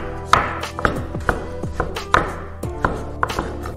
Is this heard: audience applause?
no